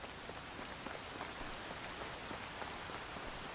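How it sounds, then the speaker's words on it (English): Steady rain falling on the ground in the Medieval Dynasty video game on a foggy day, a soft continuous hiss of drops at low volume with no other sounds standing out. "Another foggy, rainy day."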